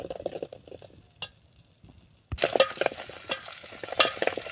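Masala frying in a pan for Marathi-style egg curry cooked over a wood-fired chulha, with a sudden loud sizzle and stirring scrapes after a quieter stretch of faint crackling.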